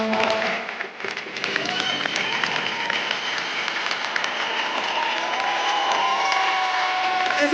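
A television studio audience on The Kapil Sharma Show gives loud, sustained applause mixed with cheers and whoops as actor-director Deepak Tijori is welcomed, dense clapping continuing the whole time.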